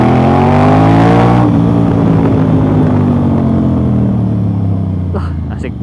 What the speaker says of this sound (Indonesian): Tapi kalau misalnya kita mau narik, suaranya keluar nih.